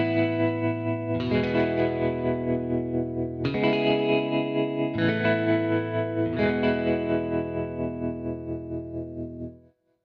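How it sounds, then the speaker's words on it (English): Guitar sample from the Desolate Guitars Fragment library processed with vintage-style spring reverb, slow strummed chords with a wobbling, washy, effected tone, four swells ringing in turn before the last one decays away. "Next, we have spring reverb, which has a single mix control, and it gives it a vintage vibe."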